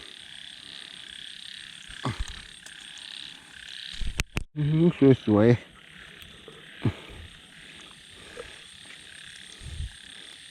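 Frogs croak in a rainy night field where frogs are being caught with hooks, a few short near croaks rising over steady insect-like hiss, with brief speech in between.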